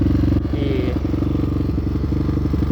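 A friend's Kawasaki motorcycle idling at a motocross track: a loud, close engine with a steady low, throbbing pulse and light mechanical clatter running without a break.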